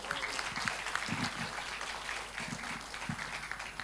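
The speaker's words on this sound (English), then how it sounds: "Please give him a round, big applause for him" Audience applause at an academic plenary session following a presentation, moderately distant and steady, with scattered louder claps and some low voices mixed in.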